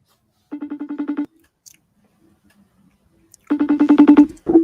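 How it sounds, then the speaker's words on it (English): A FaceTime call ringing and connecting: a buzzing, pulsed ring tone repeats in two bursts with a quiet gap between, followed by a short connecting tone at the end. "It's ringing. It's connecting."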